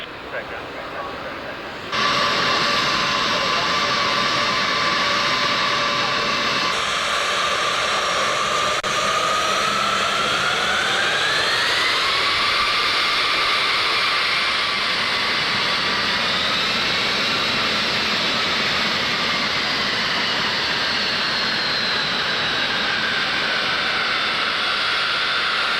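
A Panavia Tornado jet roars past at the Mildenhall airshow, a loud sustained engine howl that begins abruptly and shifts in pitch as it passes, with a voice talking over it.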